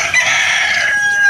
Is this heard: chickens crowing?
yes